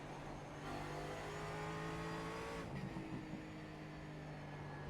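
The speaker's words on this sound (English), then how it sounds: "you can hear the throttle, the fuel gurgling in the exhaust when you get off throttle." A Ford Mustang GT4 race car in the iRacing simulator holds a steady engine drone, then lifts off throttle with a brief gurgling burble from the exhaust before the tone settles, heard alone.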